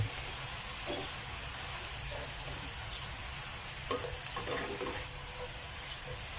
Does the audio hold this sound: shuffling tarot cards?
no